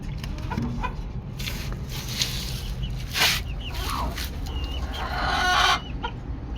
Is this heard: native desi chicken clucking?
yes